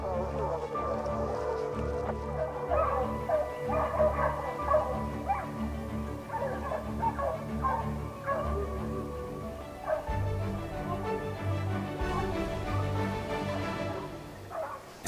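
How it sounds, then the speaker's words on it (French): A pack of hunting dogs barks and bays continuously during a wild boar drive hunt in the Cévennes, several voices overlapping at moderate distance across the hillside, steady and unbroken throughout. "les chiens donnent déjà de la voix"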